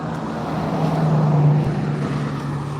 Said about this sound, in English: That red pickup truck coming right there is a City of Dalton vehicle.